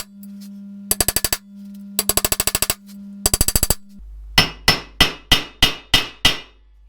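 A Harley Sportster bearing race is driven in by hammering on the old race: three quick bursts of rapid metallic taps over a steady hum, then a series of louder, ringing single strikes at an even pace, close and alone.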